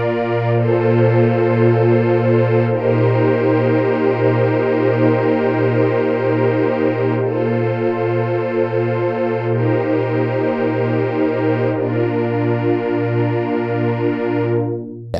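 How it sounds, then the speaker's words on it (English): UDO Super 6 synthesizer playing lush, velvety string pads, sustained chords shifting every few seconds over a pulsing low bass note, loud and close with no talking. "So this is the velvety, lush string sounds"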